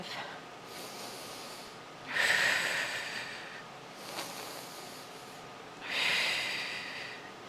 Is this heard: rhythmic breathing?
yes